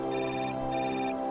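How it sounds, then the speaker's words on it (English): A telephone rings in the Syberia video game, two steady electronic trill bursts separated by a short pause, clear and moderately loud over a low constant hum. "We got a phone call."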